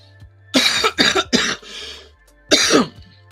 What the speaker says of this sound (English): I'm so sorry for my cough tonight